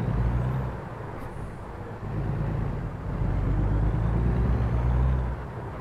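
A heavy truck engine in American Truck Simulator, hauling a 47-ton water trailer, drones at a steady low rumble throughout with road noise, moderately loud and continuous, no voices.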